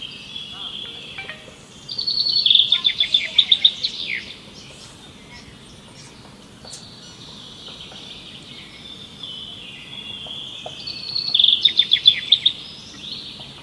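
Birdsong at Chintamani Kar bird sanctuary: two bursts of bright, rapid trilling calls, the first near two to four seconds and the second near eleven to thirteen seconds, over a quiet outdoor background with faint insect hum.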